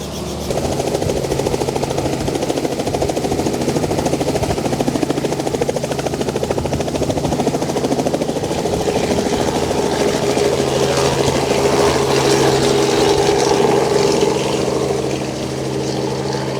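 A helicopter's engine and rotors drone loudly and continuously, a steady mechanical whine with a thumping low rumble that holds throughout.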